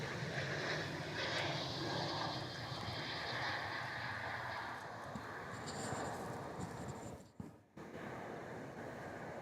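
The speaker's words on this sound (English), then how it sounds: "this one taking off is Qantas 620 off to Brisbane" A Qantas airliner takes off from Melbourne Airport, a broad roaring jet engine rush that holds steady and loud throughout, heard from outdoors with a brief dropout near the end.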